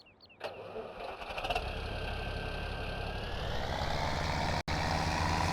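A Case 2670 tractor engine in Farming Simulator 17 cranks and catches, then settles into a loud, steady idle with a whining tone and a brief cut near the end.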